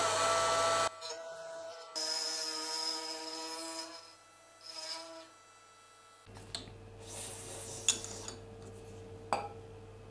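A small drill boring a hole for the button in the body of a handmade flashlight, heard as short close bursts of whirring broken by quiet gaps, with light metallic clicks and handling noises between.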